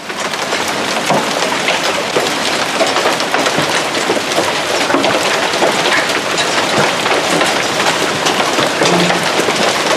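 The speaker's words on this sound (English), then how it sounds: "It's raining. It's freaking raining. It's thundering." Heavy rain pours down in a dense, continuous hiss during a hailstorm, with scattered sharp impacts from hailstones striking cars and surfaces close by; no distinct thunder stands out.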